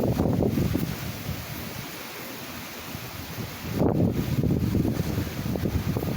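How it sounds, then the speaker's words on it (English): Strong wind blows across the microphone on a bad, windy day in Fort Myers, loud roaring gusts with a brief lull midway before a fresh surge, with a faint rustle of a tree in the background. "So today is a bad windy day in Fort Myers."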